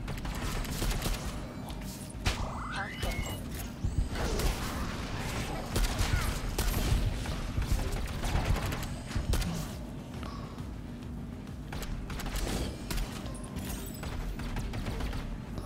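Rapid bursts of gunfire and clattering action effects from the video game Alienation crackle continuously at a moderate level, dense and overlapping throughout.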